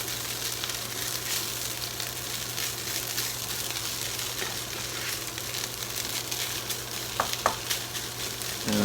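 Hash brown potatoes fry in a pan with a continuous, even sizzle and crackle that stays steady throughout, close up, with a few faint clinks near the end and no talking.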